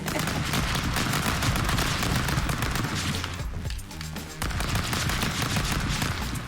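Rapid gunfire from guns in a multiplayer video game, a dense, loud, continuous stream of shots that briefly thins out midway before resuming at full intensity.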